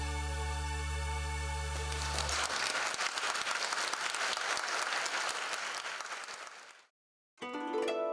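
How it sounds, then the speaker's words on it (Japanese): Applause from a packed hall at a university arts students' Christmas event swells in as music fades, stays dense and steady for several seconds, then tapers off before a brief silence and a new tonal sound. "会場いっぱいに響いた拍手"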